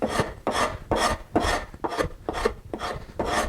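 Rasp filing across the grain of wood in sculpting work, eight steady rhythmic rasping strokes, close and crisp, evenly spaced about half a second apart.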